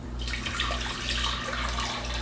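Water from a tap runs steadily into a pot, eight cups' worth for a batch of honey lemonade, a continuous close splashing rush with a low hum underneath.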